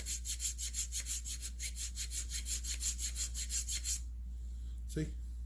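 A flat smooth file rasps rhythmically across a Husqvarna 359 chainsaw intake boot, about twenty steady close strokes over four seconds before stopping, followed by a brief knock.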